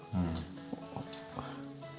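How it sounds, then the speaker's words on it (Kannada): Washed puffed rice (mandakki) fizzes softly as it soaks up water while being prepared for mandakki usli, a quiet continuous crackling hiss heard close up with no talking. "ಅಂದ್ರೆ ಮಂಡಕ್ಕಿ ನೀರು ಹೀರ್ಕೊಳ್ತಾ ಇರುವಂತ ಶಬ್ದ."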